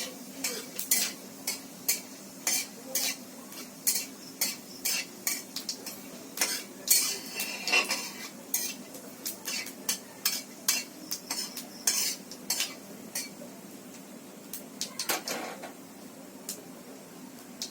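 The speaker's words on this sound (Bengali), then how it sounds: "আস্তা জিরাটাও একটু কালো করে ভাজবো আমি।" Whole cumin seeds fried in a pan for sambar, a steady low sizzle under rapid repeated metal spatula scrapes and clinks, close and fairly loud throughout, no speech.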